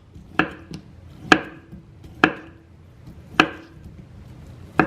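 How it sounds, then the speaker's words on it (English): Knife chopping through boiled potato on a board, six separate sharp strokes spaced about a second apart, close and clear with quiet pauses between. "I take our boiled potato, and I just go ahead and slice some circles"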